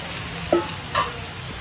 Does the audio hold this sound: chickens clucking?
no